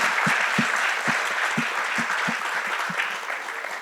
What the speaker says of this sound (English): I'd like to give a big round of applause to Kunbi